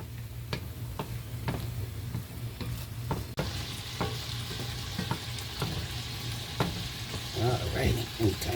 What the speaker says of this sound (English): break the ground beef up so we can start browning